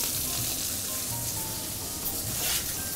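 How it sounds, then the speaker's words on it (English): A ribeye steak sizzles in a hot pan while being basted, a dense, continuous close frying hiss with faint spatters and no talking. "There's nothing quite like basting a ribeye steak."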